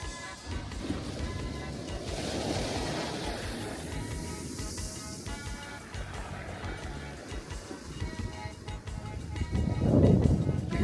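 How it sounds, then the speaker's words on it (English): Sea water rolls back over a stony beach, a continuous hissing, crackling wash of surf that swells and recedes, growing louder near the end. "You hear that crackling? That's the sound of the water rolling back from the stones."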